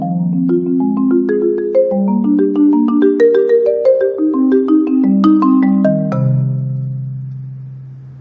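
Four-mallet marimba plays a piece strictly as written, rolling chordal notes in steady even time, close and clear with no talking, ringing out on a sustained final chord.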